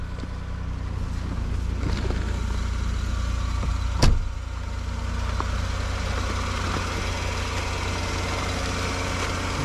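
A 2005 Saturn L engine idles smoothly, a steady low hum with faint mechanical ticking throughout and one sharp knock partway through, without speech.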